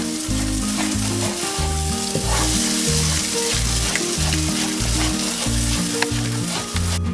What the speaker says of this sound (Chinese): 要经常的搅拌